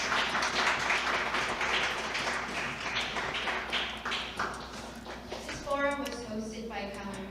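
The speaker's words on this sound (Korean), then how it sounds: "큰 박수 부탁드리겠습니다." An audience at the close of a round-table forum session applauds in a moderately dense burst of clapping, tapering toward the end as a voice and some tonal sound emerge underneath.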